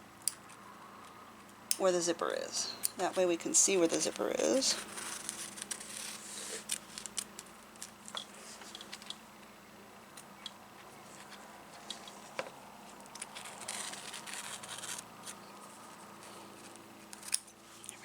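Scissors snip through embroidery stabilizer on an in-the-hoop corset shoulder zipper bag project, a close run of crisp cuts early on, then quieter scattered clicks and handling while someone talks.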